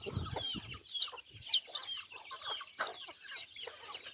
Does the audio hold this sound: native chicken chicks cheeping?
yes